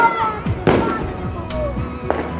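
Rapid pops and crackling bursts of firecrackers going off repeatedly for Eid, with voices talking over the noisy clatter.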